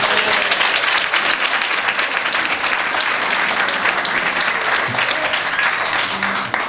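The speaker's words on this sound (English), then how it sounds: "Don't you give God a hand clap?" A church congregation claps loudly and continuously. The dense applause stays even and close for the whole stretch, with faint voices mixed into the crowd.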